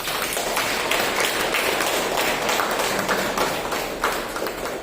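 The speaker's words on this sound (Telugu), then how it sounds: "ఆ మహాన్మాన్ ఒకసారి క్లాప్స్ ఇచ్చుకున్నాం." Audience applause for a revered figure at a Telugu talk or gathering, a steady dense wash of many hands clapping together, sustained and fairly loud throughout with no voices standing out.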